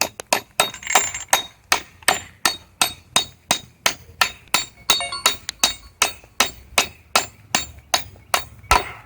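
Anchor bolts with nuts are hammered into a garage base in a fast, even run of loud metallic strikes, about two to three per second, each ringing briefly, with no talk.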